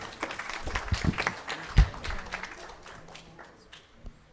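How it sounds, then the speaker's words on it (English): Scattered audience applause at a Sunday satsang in a gurukula, fairly faint and uneven claps with a few louder hits, tapering off toward the end. "Give her a big round of applause"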